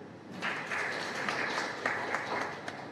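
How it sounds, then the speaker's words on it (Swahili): Crowd applause at a Tanzanian state swearing-in ceremony for a regional commissioner, a steady wash of many hands clapping without pause. "Tumpige makofi."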